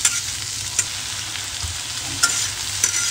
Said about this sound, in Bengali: পেঁয়াজটা দিয়ে দেবো এর মধ্যে, পেঁয়াজটা ভেজে নেব। তা হাই ফ্লেমে আমি একটু ভেজে নেব ভালো করে।